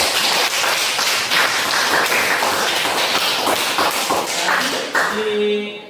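Classroom applause for a student group, a dense burst of many hands clapping close by for several seconds before tapering off, with a brief voice at the end.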